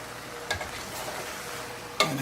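Pasta being stirred in a pan, with a soft continuous sizzle under two sharp utensil scrapes or clacks against the pan, one early and one near the end.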